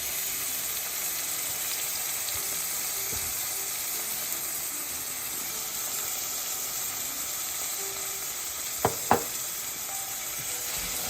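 Berbere spice and spiced butter sizzle steadily in a pot for Ethiopian misir wat, a continuous close crackling hiss with a couple of brief utensil knocks near the end.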